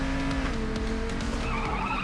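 A car in Payday 2 skids with a sustained tire squeal over a loud, steady engine roar, close up, with a sliding pitch toward the end as it loses grip.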